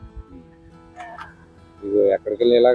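Chickens on a nomadic goat herders' farm, where dogs are also kept, give a few loud, close clucking and squawking calls near the end after a quieter stretch.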